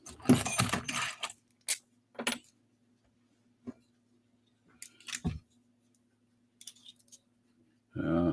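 A bunch of metal key blanks, 5-pin keys, jangled in bursts of bright metallic clinking, loudest at the start and then in scattered short shakes with quiet gaps, close by, with brief talk at the end.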